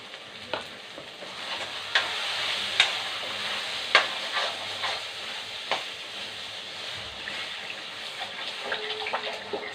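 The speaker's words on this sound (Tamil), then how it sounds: "தண்ணி ஊற்றிக்கலாம்." Water is poured into a pan of simmering raw plantain kara kuzhambu seasoned with chili powder, making a continuous splashing hiss with occasional sharp utensil clinks against the pot.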